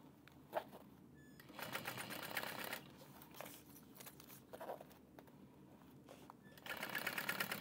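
A sewing machine stitches around the seam of a small fabric train case in quiet bursts, running in several short runs separated by pauses, close and alone without talk.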